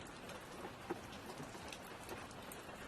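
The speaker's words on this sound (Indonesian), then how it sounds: "Alah geningan ageng hujan teh." Heavy rain pours down in a steady, even wash of hiss with occasional louder drips, heard at a distance and quiet overall, with no talking.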